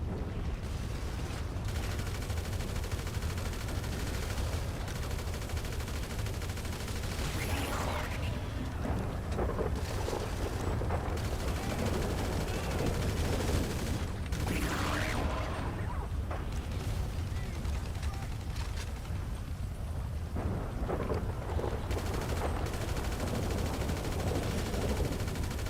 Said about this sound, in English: I've really just got to shoot down this buzzard.